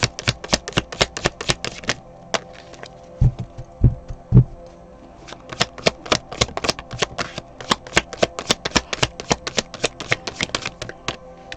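Tarot cards are shuffled close by with rapid, clicking riffles in quick bursts. A brief pause with a few soft thumps breaks them up before the fluttering shuffle resumes.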